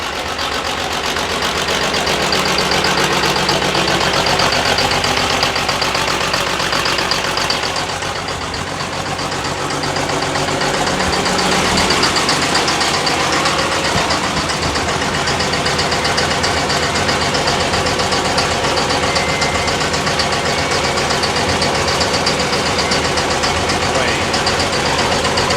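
The Cummins diesel engine of the American Outlaw monster truck idles loud and close, a rough, continuous rumble that holds steady for the whole stretch, with a brief dip partway through.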